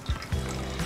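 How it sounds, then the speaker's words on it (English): Hot water is poured for a pour-over coffee, a short, close trickle and splash that comes in a couple of small pulses. "when we pour the hot water"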